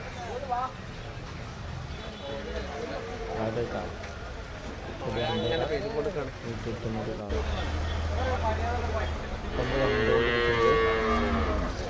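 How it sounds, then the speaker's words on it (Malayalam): About ten tethered bulls at the Chattiparamba cattle market low and moo several times at mid distance. The calls come at intervals under steady nearby conversation and market bustle. "പത്ത് കാളകൾ പത്തോളം കാളുകൾ ഇങ്ങനെ കെട്ടിയിട്ടുണ്ട്"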